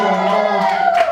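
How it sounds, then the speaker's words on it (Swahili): Wedding guests raise a loud, sustained cheer, their voices blending into a continuous tonal shout with a brief rise near the end, crowded and close. "Makofi mengi."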